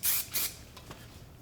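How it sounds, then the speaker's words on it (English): Hairspray misted onto layered hair: two short close hissing bursts, then two fainter puffs, quiet with no talk. "a little bit of spray"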